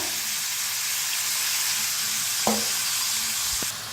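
Cauliflower and masala paste frying in hot oil, a steady bright sizzle with a couple of sharp scrapes of a spoon stirring the pan.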